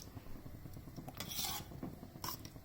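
Spoon stirring thick gravy into cooked rajma kidney beans in a pot, a soft wet scraping and squelching that swells and fades in slow strokes, close by with no voices.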